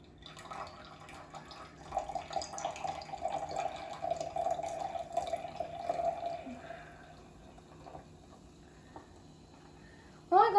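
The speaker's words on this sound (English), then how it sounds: "Just pour it into this glass if I can." Spindrift sparkling water poured from a slightly dented can into a glass, a steady mid-pitched liquid stream running for about five seconds, fairly faint, followed by quiet and a brief clink near the end.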